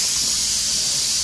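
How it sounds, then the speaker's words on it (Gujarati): Pressure cooker whistle releasing steam in a home kitchen, a steady loud hiss of venting vapor that holds unbroken through the whole short moment, with no voices over it. "સીટી બહુ બકબક કરે"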